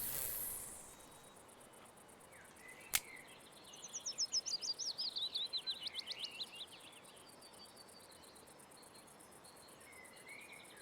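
Bird calls in the fishing game Russian Fishing 4 appear midway as a quick, faint, trilling run of chirps. A steady insect-like buzzing hiss carries on underneath throughout.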